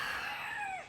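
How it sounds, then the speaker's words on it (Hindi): A rooster crows once, a short, fairly faint, clear call near a drinking spot in forested hiking country, with the voice falling at the end and nothing else heard. "लेकिन जो जानवर यहाँ दिख रहा है वो एक्चुअली में एक मुर्गा है।"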